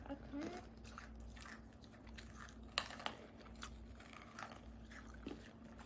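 Freeze-dried marshmallow candy crunches between teeth in several crisp bites and chewing noises, while people talk close by.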